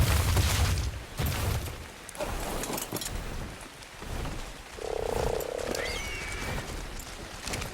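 A frog in the Ark game croaks several times in a short run, rising clearly over a rainy, crackling outdoor backdrop.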